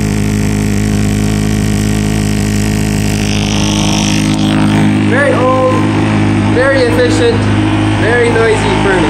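A Lennox Pulse gas furnace running loudly, a steady low rumbling drone of pulse combustion held close and constant throughout, with a voice talking over it partway through.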